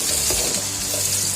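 Dry fish and curry leaves fry in a pan, giving a close, continuous hiss and crackle of hot oil with small stirring bursts, and no voices.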